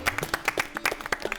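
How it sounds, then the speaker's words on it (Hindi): Brief burst of audience clapping at a poetry recital of ghazals, quick uneven claps from a small crowd, close and moderately loud. "बेहतरीन गजलों के साथ जोरदार तालियां बजाइए"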